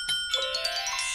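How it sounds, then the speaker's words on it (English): A bright two-tone electronic chime rings out at a food hatch to signal a waiting customer, its tones overlapping and sustaining briefly in a clear, moderately loud burst with no voices. "That's the bell to tell us there's a customer, Ben."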